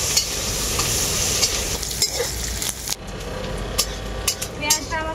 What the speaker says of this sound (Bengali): পেঁয়াজটাকে আমি খুব ভালো করে ভেজে নেব।